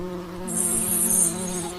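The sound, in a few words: voice imitating buzzing of many bees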